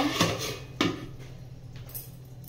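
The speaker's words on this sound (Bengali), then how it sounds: "এবার গ্যাসটা বন্ধ করে একটুক্ষণ ঢাকা দিয়ে দেব" A lid set onto a cooking pot of chickpea malai curry after the gas is turned off, two quick metallic clanks followed by a softer settling rattle, close by with no talk.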